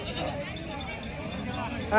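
A goat bleats amid the crowded buying and selling at a goat market, the wavering cry rising over a busy babble of voices, with people talking nearby throughout.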